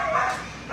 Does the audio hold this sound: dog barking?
yes